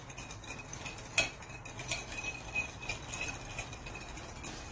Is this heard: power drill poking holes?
no